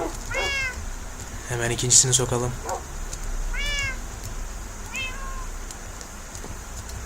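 Several short cat meows from the video game Minecraft come in bursts, some overlapping someone talking, with quiet gaps between them.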